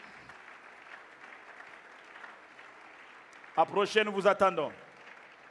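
A church congregation breaks into a short burst of cheering and applause, loud claps and shouts rising suddenly after a quiet stretch. A voice speaks in French over a faint background hum.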